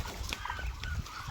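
Ducks squabbling and honking close by as they are fed, a dense cluster of quacking calls over a steady low background rumble.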